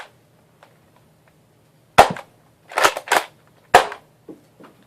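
A Nerf Rival Kronos blaster fires foam rounds indoors near a couch: four sharp snapping shots, two of them in quick succession, with faint thuds of the balls bouncing between shots in an otherwise quiet room.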